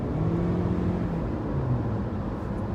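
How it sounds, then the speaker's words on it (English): A 2021 Toyota RAV4 Prime engine with CVT transmission drones steadily with a whining, slightly rising tone, heard from inside the vehicle with no talking. "The engine, coupled with that CVT transmission that it has, which are always kind of louder, you can really hear"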